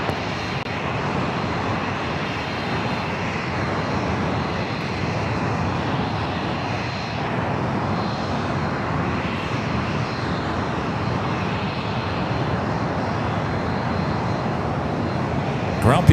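An airplane lands on runway 25 left at LAX, its engine roar a steady, broad wash that holds for the whole stretch, with voices talking faintly over it.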